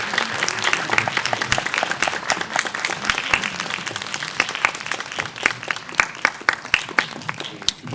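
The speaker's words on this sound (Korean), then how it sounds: "다시 한번 박수 보내주시면 감사하겠습니다" Sustained audience applause at a film screening Q&A as the cast and director enter, dense and steady for the full stretch with no speech over it.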